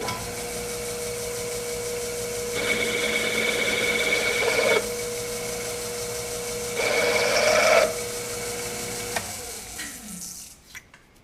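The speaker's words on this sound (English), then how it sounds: "So I'm going to run my countersink here real quick" A small power drill with a countersink bit whirs in two short bursts with a rasping cut into material, separated by a quiet pause, fairly close.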